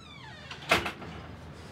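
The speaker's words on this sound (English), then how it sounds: "shut the door" A house door is pushed shut with a single short thud, close and moderately loud, with no talk during it.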